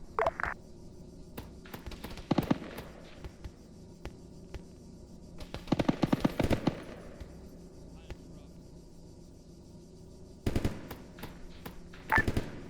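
Machine gun fire from a gun jeep in a video game comes in short, scattered rattling bursts. The volleys are spaced well apart over a quiet background hum and sound moderately distant.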